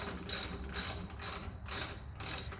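Ratchet wrench cranking on the wheel bolt of a Honda HRR216 lawn mower, five bursts of rapid clicking in an even back-and-forth rhythm, close and clear with no talking.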